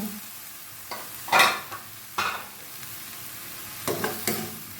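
Chili and garlic paste stir-frying in a pan for a minced pork and bamboo shoot dish, a steady sizzle with a few loud scraping strokes of a spatula.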